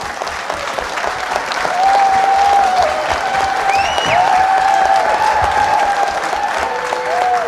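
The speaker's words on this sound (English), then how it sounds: "If we could keep the hooting and applause to a minimum, that would be very respectful." Applause and hooting from the crowd at a Town of Windsor special study session on the Lytton Rancheria development, with sustained clapping and several rising whoops and whistles carrying over it, swelling midway and tapering slightly.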